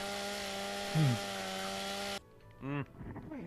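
A video game chainsaw sword roars with a loud, steady mechanical buzz that cuts off abruptly, followed by short whirring revs and tonal sweeps.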